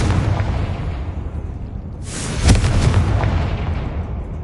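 Confringo spell explosion in Hogwarts Legacy: a sudden loud blast bursts in partway through over a steady rumbling background, then decays into a lingering roar; no talk.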